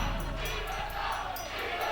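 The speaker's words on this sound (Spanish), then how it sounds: "no sabía que me quería tanto esta gente y me aplaude tanto" A large crowd cheers and claps in a steady roar, dense and continuous for the whole moment with no voice standing out.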